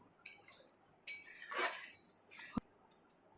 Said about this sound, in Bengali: গরম মশলাটা নেড়ে চেড়ে নামিয়ে দেব।